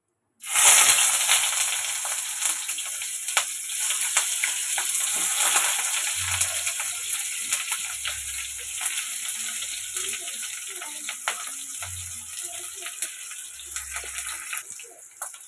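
Onions frying in hot oil in a kadai, a steady bright sizzle running throughout at moderate level, with occasional soft low thumps of stirring.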